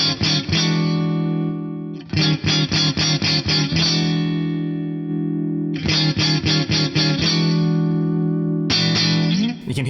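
Clean electric guitar through an Axe Fx III with a compressor, strummed and picked chords in bursts with long, sustained ringing tails between phrases, bright and even, no voices.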